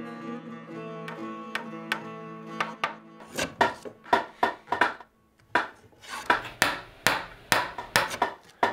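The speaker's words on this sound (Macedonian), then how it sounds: "Не оглуве со тоа чеканчето." A small hammer strikes nails, starting with a few ringing metallic taps and then turning into a quick run of sharp, loud, close blows with brief pauses.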